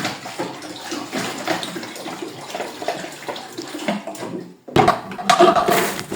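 Water splashes and runs steadily while bottles and their covers are washed, close and fairly loud, with brief pauses and clattering rinses near the end; no talking.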